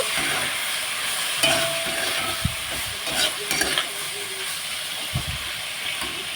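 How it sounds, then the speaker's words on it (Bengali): Ginger garlic paste stirred into bitter gourd frying in a pan, giving a close hissing sizzle with steam and irregular scraping knocks of the spoon against the pan, with no talk. "আদা রসুনটা দিয়ে ভালোভাবে নাড়াচাড়া করে নেব"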